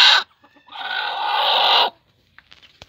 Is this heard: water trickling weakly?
no